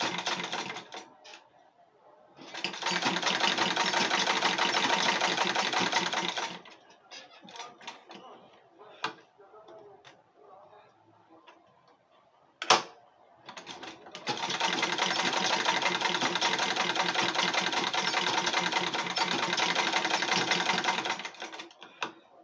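A sewing machine stitches Ankara fabric for a school bag in two long, fast bursts of rapid mechanical clatter, close and loud, separated by a quieter pause with small handling noises.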